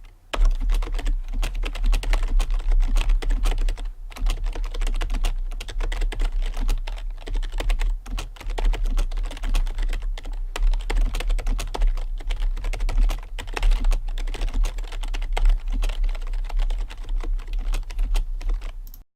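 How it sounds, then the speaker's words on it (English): Steady, fast typing on a Corsair K55 rubber dome gaming keyboard, soft, muffled keystrokes in a continuous rhythm, close up and without any talking. "I'll insert a typing test to show exactly what the key switches sound like while typing"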